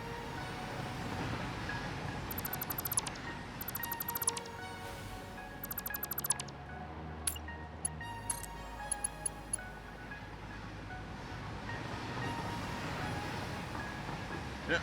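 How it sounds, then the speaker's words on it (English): A train in the game Satisfactory rumbles past with a low steady roar, punctuated by sharp metallic clicks and ticking over the noise. "Let this train pass."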